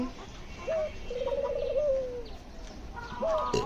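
Australian doves cooing nearby, a soft tonal coo followed by a longer rolling run of coos, then another short call near the end, with quiet background noise.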